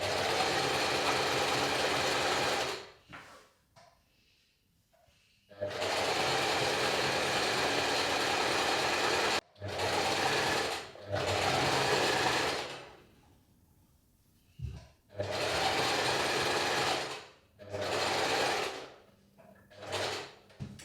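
Home sewing machine stitching along a top's hem, running in several loud sustained bursts of whirring with short pauses between as the fabric is turned, no talking.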